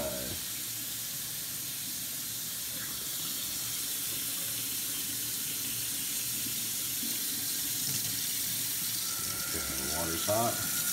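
Hot water pours from a tap, steadily filling a container with a continuous loud hissing rush, and a few clatters near the end as the flow shifts.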